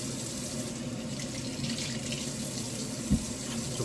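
Tap water runs steadily into a sink while vegetables are washed, a soft continuous splashing with one small knock near the end.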